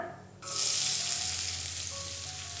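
Finely chopped onion hits hot oil with cumin for a Kerala-style drumstick dish: brief quiet, then a sudden loud sizzle that settles into a steady hiss.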